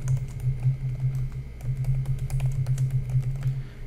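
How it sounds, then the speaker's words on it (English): Keys clatter on a computer keyboard as a password is typed in at a Windows 10 account sign-in setting: a steady run of quick, close taps over a low hum, with no talking. "right here, you would type in your password"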